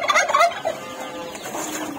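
A chicken calls out in a few loud, squawking bursts early on, then fades into a steady outdoor background with no talking.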